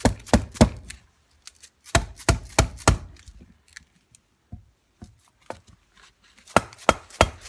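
A hammer taps on Norton Commando 750 motorcycle parts during a restoration, loosening studs and bolts. Sharp, close metallic knocks come in quick clusters of three or four, separated by short pauses, with a few lighter taps in between.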